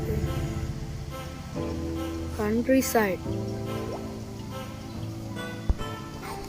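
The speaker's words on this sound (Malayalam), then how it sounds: "വെള്ളം ഒഴുകുന്നത്." Water flowing and dripping in the LEGO Hill Climb Adventures video game, with bubbly liquid sounds mixed with game music tones while someone talks over it.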